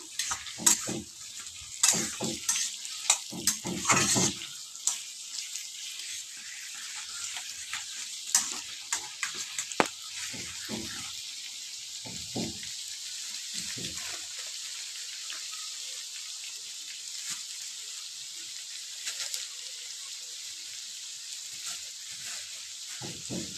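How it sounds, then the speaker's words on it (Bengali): Potato and pumpkin pieces fried in a pan until reddish: a soft, continuous sizzle with scattered spatula clatters and scrapes, busiest early on, then settling into a quiet hiss. "একটু আলু কুমড়োটাকে একটু বেশ ভালো ভালো করে লাল লাল করে আমি ভেজে নেবো।"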